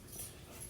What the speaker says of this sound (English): I'm babysitting my mom's dog, and I want to make sure that he's not hassling my dog right now